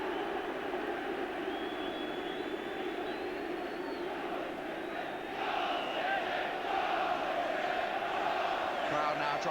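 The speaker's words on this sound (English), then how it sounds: "Crowd now trying to lift the home side." Football crowd at a Manchester City home match, an FA Cup quarter-final against Tottenham Hotspur, a distant roar of massed chanting and noise from the stands, steady and sustained, swelling slightly partway through.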